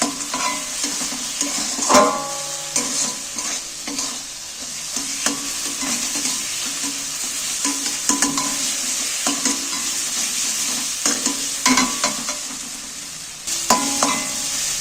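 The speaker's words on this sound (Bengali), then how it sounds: "গুঁড়ো মুগের ডাল আর বাদামটাকে এর সাথে দিয়ে আবারও কষিয়ে কষিয়ে নিয়ে নিচ্ছি" Spinach with ground moong dal and peanuts stir-fried in a pan, a loud, steady sizzle broken by repeated scraping and knocking of the spatula against the metal pan, with no voices.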